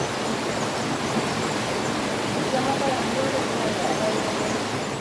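Water from the Kalladikode hills rushes down at Meenvallam waterfall, a dense, steady roar of flowing water that stays even and continuous throughout, moderately loud.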